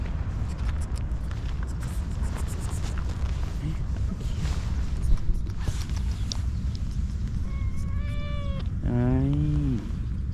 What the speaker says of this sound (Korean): 그리고 여기 고양이도 있어요.